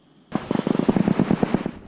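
Rapid bursts of automatic gunfire ring out during a Philippine-US Balikatan counter-landing live-fire exercise on the beach at Rizal, Palawan, loud and close, in a dense continuous rattle with no talking.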